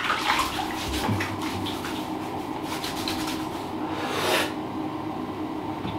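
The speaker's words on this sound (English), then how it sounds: "I'm gonna go and wash my face." Tap water runs steadily into a basin during face washing before a shave, a loud, continuous splashing rush with small shifts in flow throughout.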